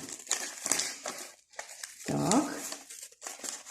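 Scissors snip through paper during a children's paper appliqué craft lesson, giving short crisp cuts and crinkling rustles in separate bursts, with a person speaking softly among them.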